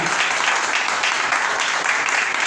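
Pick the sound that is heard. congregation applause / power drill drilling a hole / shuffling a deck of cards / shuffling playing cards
congregation applause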